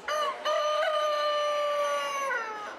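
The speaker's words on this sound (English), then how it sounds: "the general, a reverse frizzle, has plenty to crow about" A reverse frizzle rooster crows at a New Zealand agricultural show with a loud, close, sustained call lasting nearly three seconds, briefly broken near the start and tapering off at the end, with no voices.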